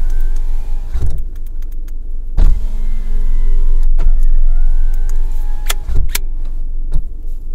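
Car power windows closing slowly at night on a local road, each motor whir rising and stopping in short bursts several times, close and fairly loud over a steady engine hum.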